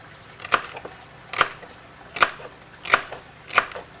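A knife slices down through food onto a cutting board to build a base for a lamb roast, five distinct, evenly spaced chops close by with quiet pauses between.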